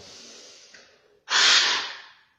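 Rapid breathing in an airway clearance exercise: a soft steady breath, then one sharp, loud, forceful inhalation near the microphone that trails off, with no talking.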